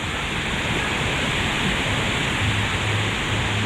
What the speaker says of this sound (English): There's water running on those 3 water slides.